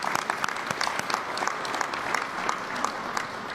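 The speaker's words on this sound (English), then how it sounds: "I want to give them a round of applause as well" An audience at an O'Hare Terminal 3 event in Chicago gives steady, even applause with crisp individual claps throughout and no voices over it.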